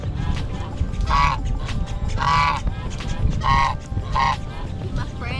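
Geese honk outdoors at a Houston spot, four separate loud nasal honks spaced about a second apart over a constant background rumble with some voices.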